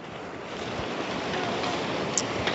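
Steady wind-blown roar of ocean waves and surf near a sandy beach, loud and continuous, with faint wind noise buffeting the microphone.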